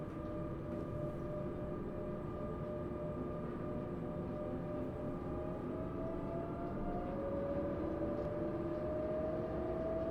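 German passenger train in Train Simulator pulling away and accelerating: a steady low rumble and rolling drone under rising electric motor tones, continuous and fairly loud, with no talk.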